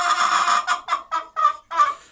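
Several chickens in a coop, including a green-egg-laying hen near the nest, cluck loudly and close by in a run of short, repeated bursts with brief gaps between them.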